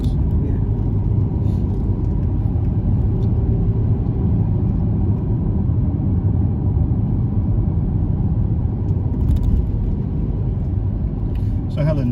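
A car drives along a road during a tour of Scotland, heard from inside as a constant deep engine and tire rumble. The drone stays loud and even throughout, with a few brief higher rattles near the end.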